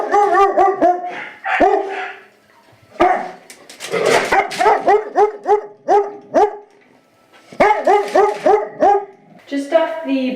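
A dog held in a bite-quarantine kennel barks loudly and close by in repeated sharp bursts, with short pauses between the volleys and a few higher yips mixed in.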